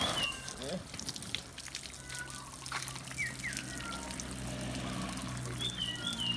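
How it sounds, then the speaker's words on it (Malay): Water poured onto a plant growing in coconut coir medium, a steady soft trickle and splash that runs through most of the stretch, with birds chirping faintly in the background. "Kita siram pokok ni, siram medium tanaman ni supaya nampak kemas."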